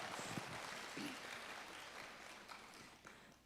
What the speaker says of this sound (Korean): 각자 자기 자신에게 박수 한번 보냅시다.